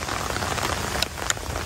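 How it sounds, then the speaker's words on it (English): Steady rain falls on surfaces outdoors beside a yard and camper during a hot spell, a dense even patter with a couple of sharper drip taps, no voices. "this is a very, very welcome, much needed rain"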